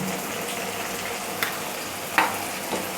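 Dried fish, eggplant and spices with turmeric and red chilli fry in oil on low heat, giving a steady, even sizzle with a few brief clinks and scrapes of stirring.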